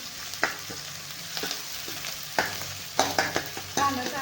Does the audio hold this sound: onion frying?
yes